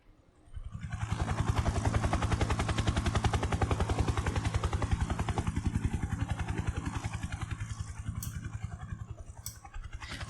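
A video-game helicopter's rotor thumps in a fast, continuous chop at steady volume, nearly the whole way through, with a couple of faint clicks near the end, in Unreal Engine 5.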